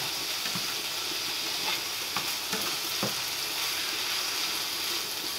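Bacon and onions fry in a pan with a constant loud sizzle and hiss, broken by a few faint scrapes and clicks, close and uninterrupted by speech.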